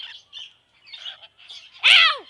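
A pet bird calls close by in a few short chirpy bursts, ending in a louder, harsher squawk.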